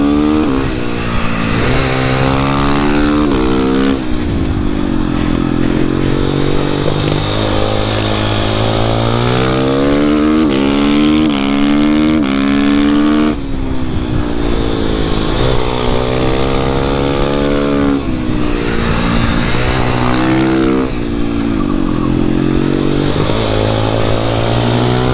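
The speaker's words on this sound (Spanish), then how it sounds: "Esta moto cansa mucho porque la dirección es muy dura" A motorcycle with heavy, stiff steering runs loud and steady throughout, its engine revving up and down in rising and falling sweeps close by.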